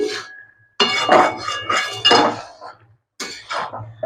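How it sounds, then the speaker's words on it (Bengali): Metal clinks and scrapes ring out as cauliflower stalk curry with pumpkin and radish is stirred in a pot, coming in loud, close bursts separated by short pauses. "আমি ঢাকনাটা খুলে দিলাম এবার নেড়ে দিচ্ছি"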